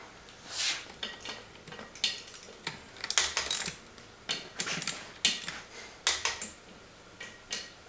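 Close metallic ratcheting clicks come in quick irregular bursts as beadlock bolts on an off-road wheel are snugged down by hand, with occasional light clanks of tools and metal between the bursts.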